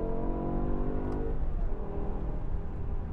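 A BMW M5 E60 with a V10 engine driving at speed on the Autobahn, its engine a loud, continuous droning roar with rising harmonic tones inside the cabin.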